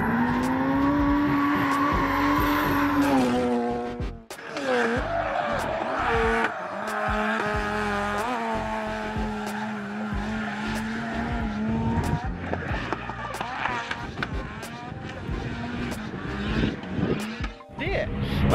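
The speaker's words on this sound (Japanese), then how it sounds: "今日はマッドマイクのドリフト総合会なんですよ" Drift cars circle Hampton Downs club circuit during a drift day, their tires squealing in long, loud, wavering screeches over revving engines, almost without pause for the whole stretch.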